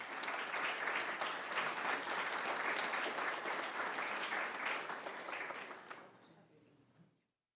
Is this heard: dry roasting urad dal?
no